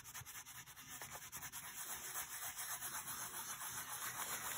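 A tool rubs and burnishes paper over lace and glitter, a faint, continuous scratchy swishing in quick back-and-forth strokes, close by with no voices.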